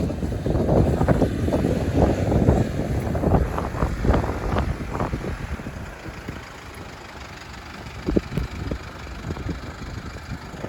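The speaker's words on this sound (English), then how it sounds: "Enough wind to keep the flies at bay." Wind gusts near a beach at high tide buffet the microphone in heavy rumbling waves, loud at first and then easing to a lower, steadier rush with occasional bumps.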